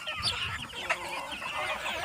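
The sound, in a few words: free-range country chickens clucking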